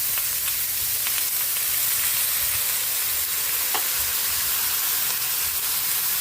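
Chicken pieces sizzle and fry in a pot for Filipino tinolang manok, a steady close hiss with faint crackles and occasional stirring scrapes, no voices.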